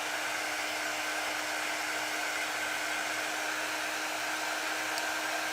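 A hair dryer blows steadily and loudly at close range without pause, drying painted coffee mugs.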